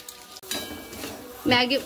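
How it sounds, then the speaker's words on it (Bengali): Maggi masala hits hot oil in a frying pan, giving a bright sizzle that swells briefly near the end over a low continuous frying hiss, with a faint clink before it. "এটা একটু ভেজে নিলাম"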